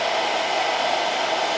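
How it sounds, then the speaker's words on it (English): A blow dryer running steadily on an Anker Solix F3800 Plus power station, a continuous close, loud airy whoosh with an even motor hum and no pauses. "because I have the blow dryer on"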